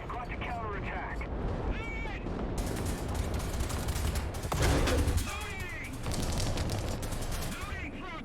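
Bursts of gunfire and heavy cannon blasts in a tank battle video game featuring the M3 Lee medium tank, rattling in repeated volleys with a loud thump midway, while a player talks over the noise throughout.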